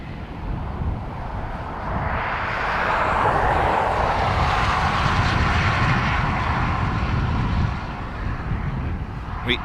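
A United Boeing Dreamliner airliner from Chicago roars past at an airport, a loud, sustained broadband engine rumble that swells mid-clip and holds steady before easing slightly.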